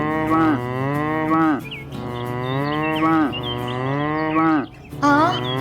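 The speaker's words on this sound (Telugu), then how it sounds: "ఆవు అరుస్తూ జున్నుని చూపిస్తూ ఉంటుంది" A cow moos loudly and close up in long, drawn-out calls, four in a row with brief gaps between them.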